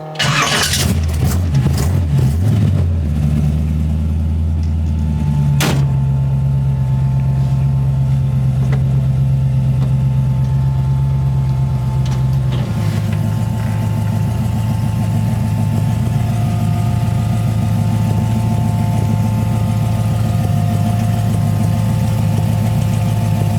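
A 1940 Ford car engine cranks and starts, then idles and runs at a steady low rumble from inside the cabin, loud and close, with a slight shift in pitch about halfway through and no talking.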